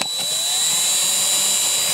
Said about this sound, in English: This drill bit is a monster. This drill wants to break my arm off.